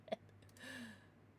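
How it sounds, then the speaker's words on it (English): A pet cat named Jasper meows during a gaming livestream, a single drawn-out, faint call that rises and falls for under a second after a brief click, with no talk over it. "Someone tell my cat to shut up."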